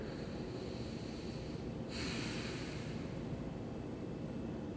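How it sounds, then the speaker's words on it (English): A single slow deep breath sounds during a yoga physical therapy session for low back pain, a soft airy rush near the mic over a steady background hiss, with no talking. "Just take a deep breath here."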